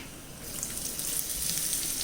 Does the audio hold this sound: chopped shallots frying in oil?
yes